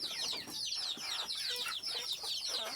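Desi chickens on a small Bangladeshi poultry farm clucking at feeding time, a dense overlapping chorus of quick chattering clucks and squawks, fairly close and continuous.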